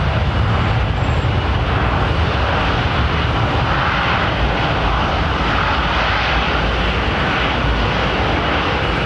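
Steady, loud jet engine roar from an airliner departing London Heathrow in calm winds, sustained without a break for about nine seconds with no talking.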